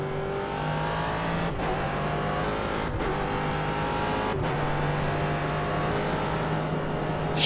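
Ford GT race car in iRacing driving a lap, its engine holding a steady loud drone with clear harmonic whine, briefly dipping at three gear changes before climbing again.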